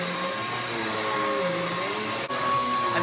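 A vacuum cleaner runs in a house with a steady, loud, continuous motor whine and airflow roar, close to the mic, with no talking.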